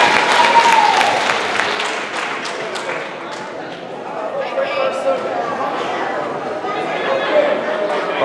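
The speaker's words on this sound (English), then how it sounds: "Clap it up." Audience at a school district professionalism talk clapping loudly at first with scattered cheers and a whoop, then the applause thins into lighter patter and crowd chatter that carries on to the end.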